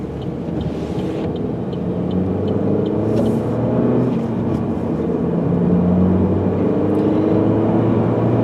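A car's turbocharged engine pulls under load on a highway, a loud, steady low drone with rising tonal whine, continuous and close from inside the cabin.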